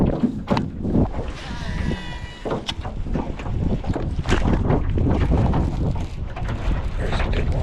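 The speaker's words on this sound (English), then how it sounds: "It's super windy" Strong wind buffets the microphone outdoors while striper fishing, a continuous, loud, low rumbling roar that swells and dips throughout.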